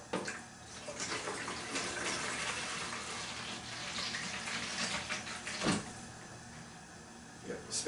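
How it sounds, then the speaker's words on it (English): Cold spring water running from a tap into a homebrewing keg, a steady faint gushing stream under quiet background, with a few knocks and bumps along the way. "we need to fill the keg to the 4-quart mark with cold spring water"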